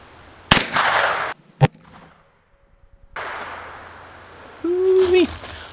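A 9mm rifle fires a Winchester 147 SXT round into a ballistic gel block outdoors, giving two sharp, loud cracks early on, then a quiet stretch, faint background noise and a brief tonal sound.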